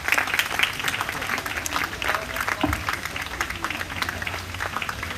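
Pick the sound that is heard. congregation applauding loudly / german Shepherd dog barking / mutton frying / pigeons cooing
congregation applauding loudly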